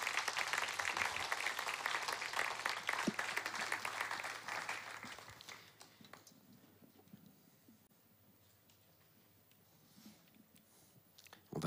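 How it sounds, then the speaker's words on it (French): A church congregation applauds and cheers in praise, dense clapping filling the first half before thinning to scattered claps and a quiet murmur. "Acclamons bien fort notre Seigneur."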